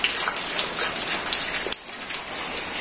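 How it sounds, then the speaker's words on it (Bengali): Steady rain pours down in a rural village, a dense continuous patter of drops hitting surfaces close by, with a brief dip in intensity partway through and no voices. "অনেক সুন্দর বৃষ্টি হয়েছে"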